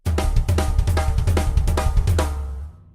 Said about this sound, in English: it sounds like this when I was doing the floor tom snare drum thing.